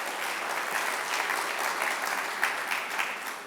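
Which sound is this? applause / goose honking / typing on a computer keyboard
applause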